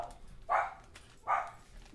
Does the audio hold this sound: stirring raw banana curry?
no